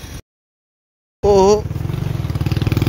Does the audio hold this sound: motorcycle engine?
yes